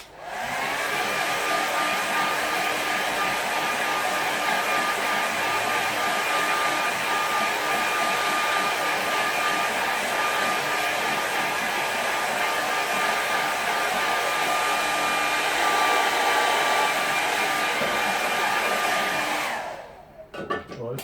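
A hair dryer blows steadily over a freshly painted watercolour, a loud, constant whooshing whine held for about twenty seconds before it is switched off and winds down.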